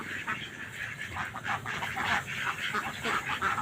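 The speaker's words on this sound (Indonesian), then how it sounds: "ini saya punya bebek juga ini teman-teman, cukup berisik ya" Ducks quack noisily in a backyard among agarwood trees: dense, overlapping calls repeat steadily throughout at a moderate, close distance.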